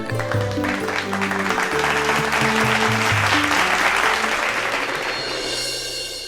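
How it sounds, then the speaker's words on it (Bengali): Studio audience applause on a Bengali TV episode, a dense, steady clapping wash that holds for about six seconds and blends with loud music throughout. "তাহলে একটা জোরে হাততালি হয়ে"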